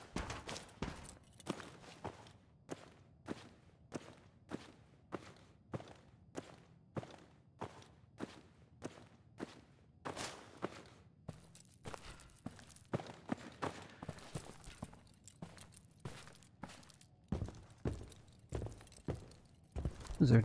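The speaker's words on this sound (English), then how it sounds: "I thought I heard footsteps." Footsteps in the video game Fallout 4, a steady run of evenly spaced steps about two per second, loosening into a denser, faster patter near the end, with no talk.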